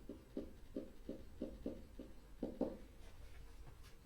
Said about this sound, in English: let me write coefficient here